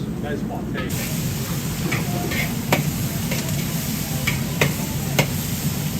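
Vegetables stir-fry in a restaurant wok with a loud continuous sizzle and hiss, broken by occasional sharp clanks of the utensil against the metal, and a voice speaks over the cooking.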